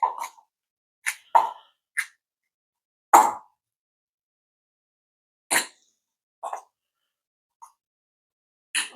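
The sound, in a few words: mixing peanut butter into a meal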